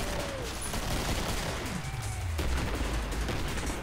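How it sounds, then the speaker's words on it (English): Gunfire from a gun in the zombie shooter video game Killing Floor, as continuous rapid shots forming a dense, loud barrage with no talk over it. "I should be aiming for face shots, but this is really not an accurate gun."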